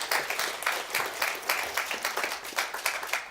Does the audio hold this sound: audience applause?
yes